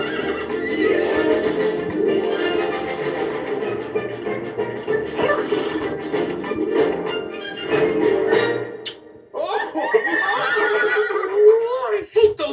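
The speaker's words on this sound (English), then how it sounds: "Horses." Horses neigh and whinny repeatedly over loud music, with a burst of excited horse calls near the end of the animated dance battle scene.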